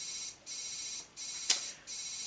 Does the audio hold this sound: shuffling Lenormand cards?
no